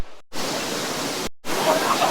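Suruli waterfall in Theni rushes with a steady broadband roar, loud and close, cut by two brief silent gaps, with faint voices in the background.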